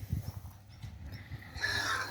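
A white mare kept in a barn, heard as faint low thumps of hooves or movement followed by a brief higher snort or whinny at the end, quiet and close with no talking.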